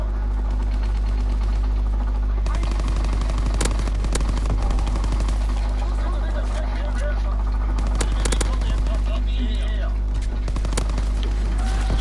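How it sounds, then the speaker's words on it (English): Rapid bursts of gunfire in a WW2 shooter game, Domination mode, crackle in clustered volleys over a constant low hum, with a voice speaking intermittently over the shooting. "Stop shooting me through there"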